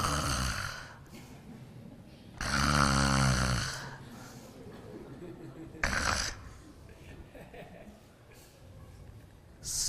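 Snoring comes in a few rough, drawn-out bursts, apparently a voice imitating a sleeping person during a spoken talk, with quieter breathy sounds between them.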